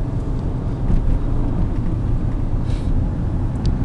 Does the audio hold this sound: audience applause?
no